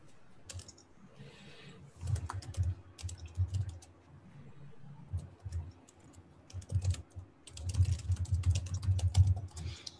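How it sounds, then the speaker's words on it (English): Computer keyboard typing during a live day-trading session, with bursts of clacking keystrokes near and fairly loud, pausing briefly and resuming more densely toward the end. "Let me type it here."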